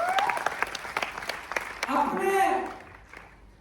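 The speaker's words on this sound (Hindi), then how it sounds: "ऐसे विजय टेतरवाल सर के लिए भी जोरदार तालियां।" Audience applause at a Hindi-language gathering rises under an announcer's loud speech, clapping building briefly in the middle before fading, with talk continuing throughout.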